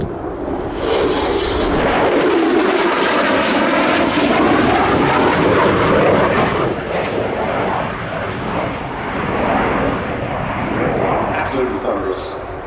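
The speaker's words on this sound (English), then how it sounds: "The two General Electric F-15 G129 turbofans, full afterburner" Two General Electric turbofans of a Qatar Advanced F-15 jet at full afterburner during an air show flying display, a loud sustained thunderous roar that swells and fades slightly as the aircraft passes.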